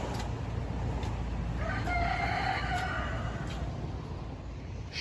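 A rooster crows once in the middle distance near farm fields, a long rising-then-falling call over steady background noise.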